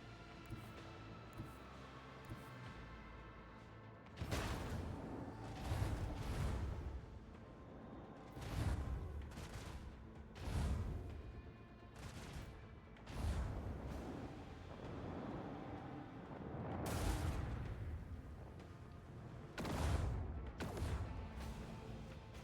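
Ship weapons and torpedoes firing in Warhammer 40,000: Rogue Trader, a string of heavy booming impacts and blasts spaced every few seconds over a low rumbling bed, faint overall with no speech.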